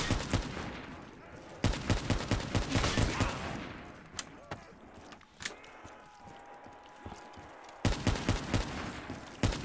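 Rapid gunfire bursts from a Black Ops 3 Zombies match on the Shadows of Evil map, loud and repeated with short pauses between volleys, mixed with game effects and occasional speech.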